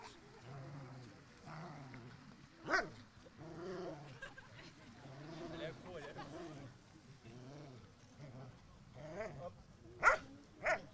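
Police drug-detection dog at a public security event, a few sharp barks and yips scattered among ongoing talk from handlers, moderately distant and fairly faint.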